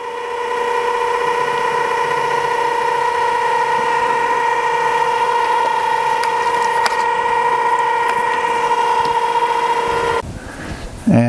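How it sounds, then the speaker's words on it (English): Steady machine whine from a Harbor Freight mini mill with a brushless motor center drilling for a 1/4-20 hole, a strong sustained tone and broad hum running about ten seconds before cutting off abruptly near the end. "And center drilling for 1/4 by 20."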